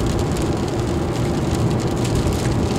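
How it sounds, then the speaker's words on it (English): Steady rain drums on a new car as it drives through a downpour, a dense, continuous hiss and patter over low road rumble, close and unbroken with no voices. "We just entered the rain."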